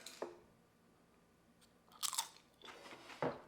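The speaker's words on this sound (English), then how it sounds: "You can tell, you can hear how crispy they are." Crisp crunching bites into crispy apple chips, a few sharp crunches spaced apart with quiet pauses between, close up and fairly faint.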